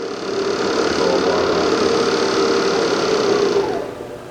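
A Southwestern Industries vertical mill with a variable speed head and R8 spindle spins up toward 3,000 RPM, giving a steady, close mechanical whine and hum that holds evenly before fading near the end.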